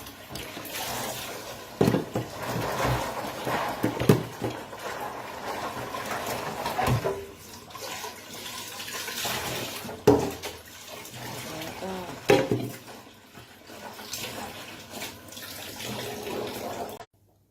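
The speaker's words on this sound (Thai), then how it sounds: "ป้าจะล้างค่ะนี่ค่ะ ล้างค่ะ ต้องล้าง ต้องล้างหลายหลายรอบค่ะ" Peanuts being washed several times under running tap water, a continuous splashing and gushing stream with intermittent clatters and sloshes, heard close, while someone talks over it.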